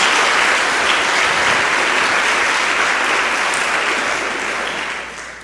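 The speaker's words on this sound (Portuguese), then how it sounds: "Dê uma salva de palmas a Jesus." A church congregation breaks into sustained applause, dense and steady clapping that fills the room and holds loud for about five seconds before tapering slightly at the end.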